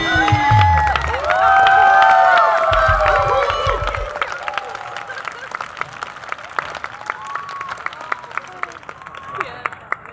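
An audience at the 2024 Taichung music festival claps and cheers, with loud whoops and shouts at first, then scattered applause thinning out as voices carry over it.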